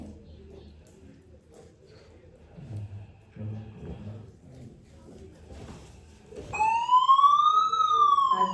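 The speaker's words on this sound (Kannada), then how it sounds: "ಸೈರನ್ ಕೂಡ ಬರುತ್ತೆ ಆನ್ ಮಾಡಿ ತೋರಿಸ್ತೀನಿ ವಿಯೋ ವಿಯೋ ಅಂತದೆ" A toy police siren wails in rising and falling electronic tones, starting suddenly after quiet handling noises and soft speech.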